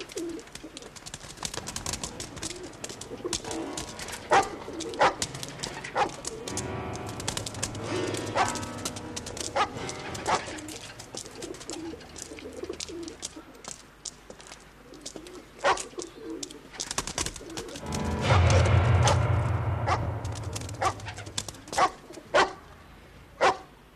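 Indoors, a dog barks and whimpers in scattered bursts among cooing pigeons and household clatter, with one louder, rougher stretch of noise near the end.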